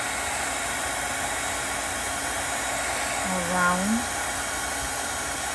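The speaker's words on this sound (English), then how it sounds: "we are getting our heating tool and we're gonna start applying the heat" A heating tool blows hot air to melt embossing powder on a card, a steady close breathy whoosh throughout, with a brief voice rising over it near the end.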